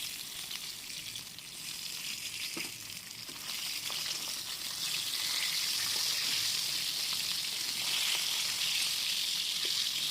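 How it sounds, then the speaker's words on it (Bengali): Katla fish frying in hot oil, a steady bright sizzle that grows louder and denser partway through, with a few faint clicks from the pan and no talking. "মাছগুলো ভেজে নিতে হবে"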